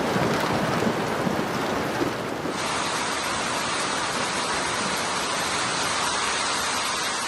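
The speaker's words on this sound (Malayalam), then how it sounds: "ഇടിമിന്നലിന്റെയും ശക്തമായ കാറ്റിന്റെയും അകമ്പടിയോടെയാണ് UAEയിൽ മഴ പെയ്യുന്നത്" Heavy rain pours down during a storm with thunder and strong wind in the UAE, a dense, steady roaring hiss that fills the whole stretch without a break and with no voices.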